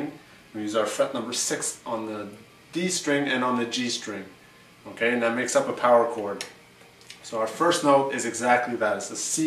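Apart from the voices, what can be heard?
No everyday noises stand out.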